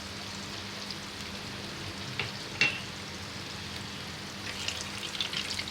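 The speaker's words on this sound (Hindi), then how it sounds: "एक पैन ले लेंगे, उसमें हम सबसे पहले अपना ये मक्खन डालेंगे।" Butter melts in a pan as garlic rice gets started, giving a steady close sizzle and soft frying crackle that runs evenly throughout, with a couple of small clinks and no talk.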